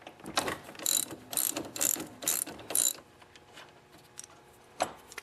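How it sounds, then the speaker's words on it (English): Ratchet wrench with a 14mm socket loosening a nut on an ATV front wheel tie rod end: five quick bursts of close, sharp clicking ratcheting, then quieter handling clatter and one last click. "I'm going to grab a 14mm socket and hold this wrench and remove it"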